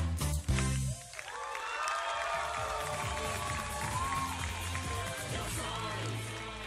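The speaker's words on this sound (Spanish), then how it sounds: "Un aplauso para el ballet de Yo Soy" A television studio audience applauds a ballet troupe on a variety show, with sustained clapping and cheering from a large crowd, loud and continuous after a brief musical moment at the start.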